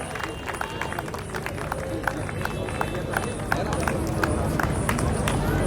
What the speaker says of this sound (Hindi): जोरदार तालियों से उनका स्वागत करें। जब तक वो मंच पर आए तालियां रुकनी नहीं चाहिए।